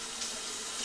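Water running from a tap into a sink, a steady soft hiss and splash that is faint and brief, with no voices.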